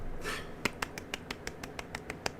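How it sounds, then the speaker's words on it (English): A few light, polite claps spaced out at a slow, even rhythm, about ten soft separate hand claps heard close and alone with no talk. "Golf claps."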